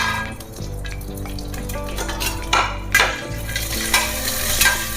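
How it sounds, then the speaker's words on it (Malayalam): Cashews fry in a pan for kadala pradhaman, a Kerala dessert, with a close, constant sizzle. A spoon scrapes and clinks against the pan in repeated stirring strokes, and no one speaks. "അടുത്തത് നമ്മൾ ക്യാഷ് ഇടാം"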